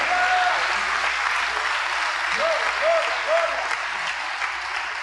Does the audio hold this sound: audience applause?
yes